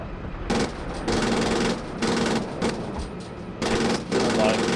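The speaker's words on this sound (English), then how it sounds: "We're taking fire here." Bursts of automatic gunfire coming in, rapid rattling volleys in several separate runs of about half a second to a second, loud and harsh with brief gaps between.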